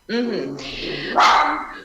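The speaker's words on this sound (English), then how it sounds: "my little dog might be barking" A small dog barks a few times at close range, sharp yelping calls in quick succession.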